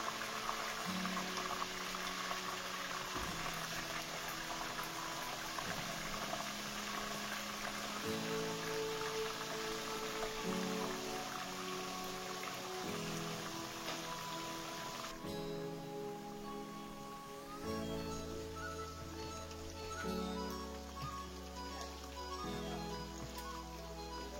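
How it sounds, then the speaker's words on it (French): Mackerel fish fries in hot oil in a pan until crisp, giving a steady, dense crackling sizzle that carries on throughout under soft background music. "Je fais cuire mon poisson jusqu'à ce qu'il devienne croustillant."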